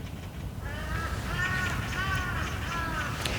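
A crow caws in a run of harsh, repeated calls over a steady low background rumble, fairly clear and close, with no talk over it.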